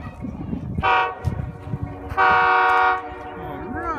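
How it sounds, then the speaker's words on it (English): A Christmas train passing near Gouldsboro sounds two loud horn blasts, one short and one longer, over rumbling rail noise, while people nearby talk and exclaim. "It's the train."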